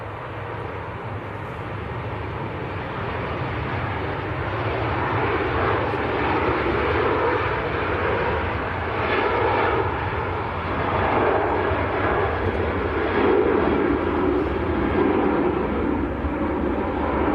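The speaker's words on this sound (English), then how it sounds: "Just about to roll, actually. Ryanair to Pisa in Italy. This is a 737-800." Ryanair Boeing 737-800 rolling for takeoff at Manchester Airport bound for Pisa, a heavy jet roar that builds and swells over several seconds, loud and sustained with no talk.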